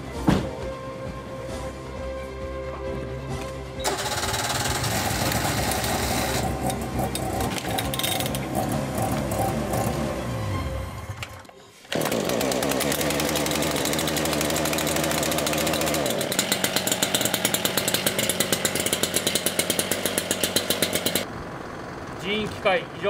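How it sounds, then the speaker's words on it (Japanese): A Japanese town fire brigade engine starts and runs during a year-end patrol, a loud steady mechanical roar that dips briefly midway and then resumes at full level, with voices talking over it. "エンジンかけてください。"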